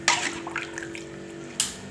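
Water splashes into a pan of chicken cooking in sweet soy sauce, with a short pour at the start and another brief splash near the end over a steady low kitchen hum.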